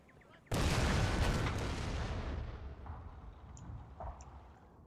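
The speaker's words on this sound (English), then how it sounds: "One shell exploded in the treetop just as the general was riding by" An artillery shell bursts in a treetop during a battle video game, a sudden loud boom that rolls into a long, fading rumble, with faint distant pops afterward.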